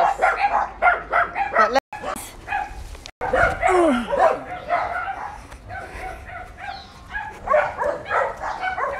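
Puppies bark and yip in a steady run of short, high yelps close by, with a few whimpers mixed in, while people talk over them throughout.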